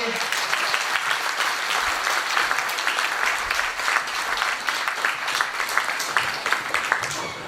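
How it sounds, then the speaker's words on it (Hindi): Steady applause from a large crowd fills the whole stretch, dense and even, with no clear pause. "तालियां बजाइए।"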